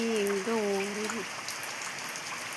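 Light rain drizzles steadily over fields in Thoothukudi district at harvest time, a continuous soft hiss with a brief tonal sound near the start.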